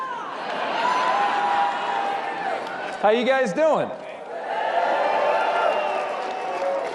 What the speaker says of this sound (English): Man, that is a big crowd.